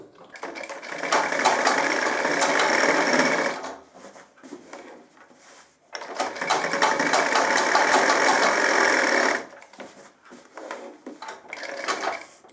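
Sewing machine stitching the pocket facing onto the body of a gents' trouser, running in two long, loud, steady bursts separated by a quieter pause, with short softer runs near the end.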